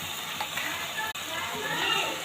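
Chicken and paneer curry masala sizzles steadily in a pan as it sautés, giving a continuous crackling fry with a person talking over it.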